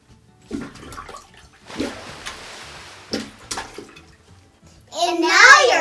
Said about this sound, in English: Once it's filled with water, you can start plunging.